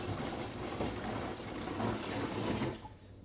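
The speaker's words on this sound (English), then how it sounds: "But if we add more water," Water is poured into a container fitted with an ultrasonic level sensor on a Raspberry Pi setup, giving a continuous, fairly loud splashing rush that drops off sharply at the end.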